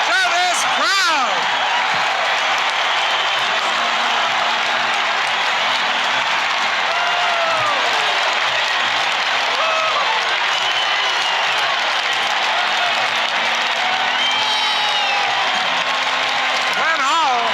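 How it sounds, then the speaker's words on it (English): A hockey arena crowd from the 1968-69 St. Louis Blues season roars and applauds after a goal, a sustained dense wall of cheering with whoops and whistles rising above it, loud throughout, with voices audible in the mix. "Listen to this crowd!"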